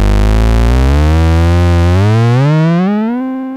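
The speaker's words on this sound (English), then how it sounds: "Feedback amount changes the pitch of the feedback." A Plankton Nutone dual tube VCA pushed into feedback gives a loud, steady self-oscillating tone that glides steadily upward in pitch, rich in harmonics, then thins and fades out at the end.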